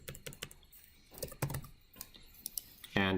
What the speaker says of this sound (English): I'll just type ground.